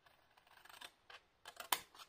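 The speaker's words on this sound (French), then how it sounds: "Nous disions que nous allons couper en travers" Scissors cut crosswise through paper for a mini album: a few soft snips and crisp crunching cuts, quiet and close, ending in one sharper snap.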